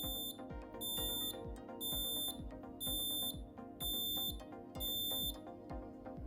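Six evenly spaced high electronic warning beeps from a Teleco door controller, signalling an open dedicated stop circuit, sound close and clear over a low steady rhythmic backing with no talking.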